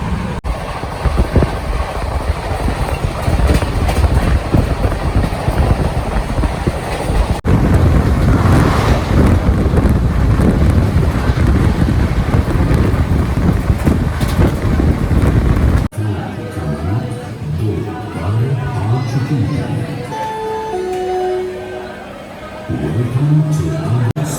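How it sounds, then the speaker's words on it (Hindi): The Chandigarh–Madurai Superfast Express runs at top speed, and its loud rushing rumble and wind buffeting carry on without a break, then shift to a quieter rattling with tonal squeals near the end. "अभी देखो अपनी हाईएस्ट स्पीड में चल रही है मदुरई सुपरफास्ट एक्सप्रेस"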